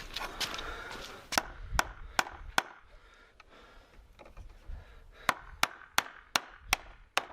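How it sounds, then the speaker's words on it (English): A small handsaw groove guides an axe or wedge through timber for wind braces, giving sharp, close woody strikes in two quick bursts separated by a quieter pause. "take that small little handsaw and try and groove it in here, see if it splits any better"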